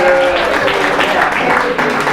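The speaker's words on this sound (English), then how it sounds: "Clap it up for rotini" Audience applause for a box of rotini revealed on a cooking competition show, a steady dense wash of clapping hands held at an even loudness throughout.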